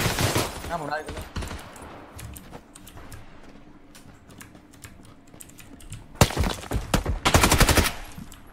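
Rapid bursts of gunfire in a first-person shooter game, dense crackling volleys at the start and again near the end, with quieter stretches between and a voice in the background.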